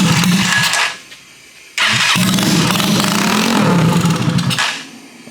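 A Condor RPS 150 Chinese mini bike engine tries to start and fails. Two loud, close bursts of cranking and sputtering engine noise each cut off abruptly, with a short quiet gap between them.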